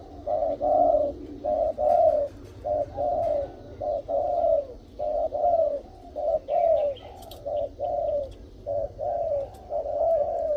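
Thai decoy spotted dove, an old bird with a mid-to-deep voice, coos in a steady run of short rhythmic phrases, close and clear, with some faint chirps from other birds in the background.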